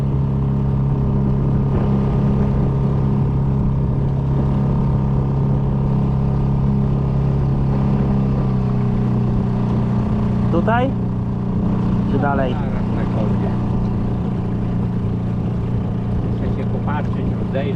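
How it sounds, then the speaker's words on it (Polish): A combustion-engine motorboat runs steadily on the water during a spinning trip for zander, its engine hum constant and loud throughout, with people talking over it. "Wiesz, że nigdy nie byłem na łódce takiej spalinowej jeszcze?"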